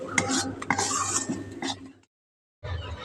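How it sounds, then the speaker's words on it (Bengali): Bean mash with coriander being stirred in a wok, close scraping and clattering bursts of a utensil against the pan, then a brief silence before the scraping resumes. "সিমটা নাড়তে নাড়তে দেখুন কড়া থেকে ছেড়ে আসছে, দলা পাকিয়ে গেছে।"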